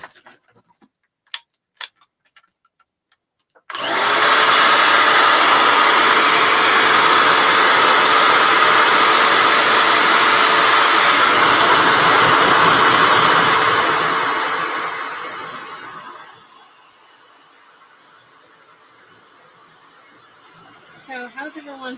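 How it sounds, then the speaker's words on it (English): A hair dryer switches on after a few faint clicks and blows loudly and steadily for about twelve seconds, then cuts off, leaving quiet room tone and brief chuckling. "we're going to have to dry it with my hair dryer"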